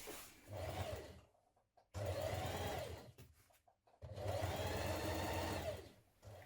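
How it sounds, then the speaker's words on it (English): A sewing machine stitches down the folded edge of a shirt about 3mm from the fold, running in three bursts of steady motor whir with short pauses between them. "Now we're going to stitch all the way down this folded edge 3mm away from the fold"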